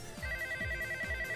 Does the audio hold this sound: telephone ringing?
yes